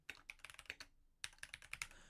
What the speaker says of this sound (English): I'm just typing that in the chat